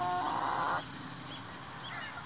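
Backyard hens in a garden on a summer morning give one loud, drawn-out honking squawk up close, followed by faint scattered chirps and clucks.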